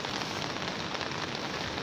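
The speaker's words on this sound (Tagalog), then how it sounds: "makita nyo na umuulan po talaga dito sa atin, sa aking garden pala" Rain pours down in a home garden among potted flowering plants, a close, steady hiss of drops pattering on leaves and pots without pause, with no one speaking.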